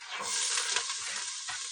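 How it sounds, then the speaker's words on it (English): A bright, steady sizzle of chopped onions, celery and carrots frying in hot oil for soup, loud and close, with a few small stirring scrapes. "it'll make that nice little sizzling sound right there"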